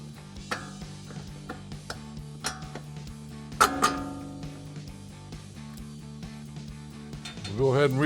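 Metallic clinks and a few ratcheting bursts come from steering knuckle bolts being refitted into the strut of a 2015–2023 Ford Mustang. The sounds are close, intermittent and fairly quiet, with a busier ratcheting run at the end.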